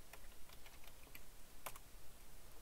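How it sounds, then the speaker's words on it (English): Computer keyboard typing, a quick run of light, close key clicks in an irregular rhythm at low volume, with no voices. "We have to type in the word default here."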